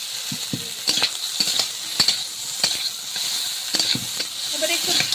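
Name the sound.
crab and water lily curry sautéing in a pan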